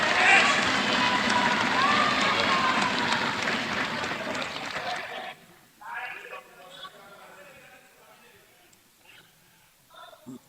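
Members of Malawi's parliament clap together in the House, a loud, sustained burst of applause lasting about five seconds before it cuts off and a lone voice speaks over a quieter room.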